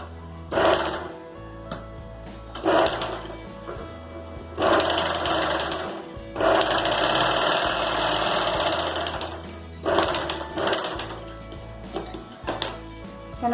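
A sewing machine stitches a zipper onto a triangular fabric pouch in several bursts of rapid mechanical whirring, the longest a few seconds, with short quiet pauses between runs and no voices.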